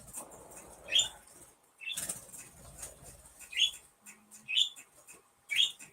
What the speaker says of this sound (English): There's nothing I can do about the birds.